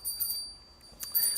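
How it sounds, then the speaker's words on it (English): Small bells rung during a prasadam food offering, sounding as a few faint, high, ringing strikes at the start and again near the end, with a thin tone lingering between them in a quiet room. "we're offering the prasadam if you hear bells"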